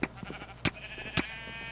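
Sheep in the video game Minecraft bleat twice in quick succession, short sharp game sounds over a quiet low background hum.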